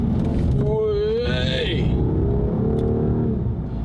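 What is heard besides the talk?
Rolls-Royce Wraith engine under hard acceleration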